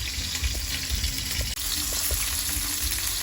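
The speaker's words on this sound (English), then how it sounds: "we're searing these New York strip steaks off for our Rigatoni and Steak tonight" New York strip steaks sear in a hot pan for rigatoni and steak, giving a steady, dense sizzle that holds even throughout, with only a brief dip midway.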